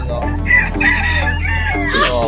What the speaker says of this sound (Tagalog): Oo, mga manok.